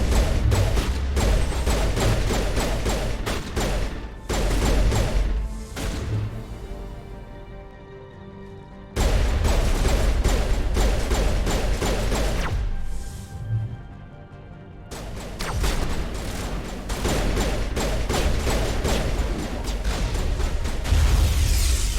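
Sustained gunfire in the Mass Effect video game rattles in long, dense bursts with heavy impacts, broken by two short lulls before the shooting resumes at full loudness.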